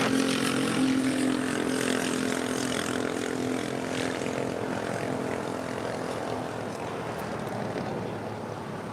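A passenger airplane takes off from runway 25 right at LAX, its engines giving a loud, steady, broadband roar that eases only slightly toward the end.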